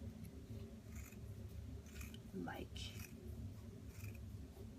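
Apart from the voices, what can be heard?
scissors cutting strips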